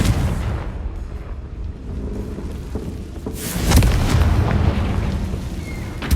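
A Confringo blasting curse goes off in Hogwarts Legacy with a deep, loud boom over a rumbling background, followed by a sustained low roar of the explosion.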